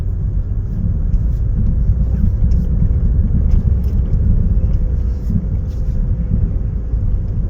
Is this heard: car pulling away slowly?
yes